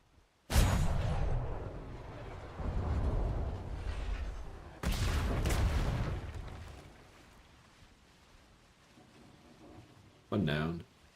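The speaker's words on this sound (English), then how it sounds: "I sunk his battleship." Booming explosions from a battleship being sunk in a naval video game, several heavy blasts with rumbling tails, separated by quieter gaps and ending in a short sharp burst.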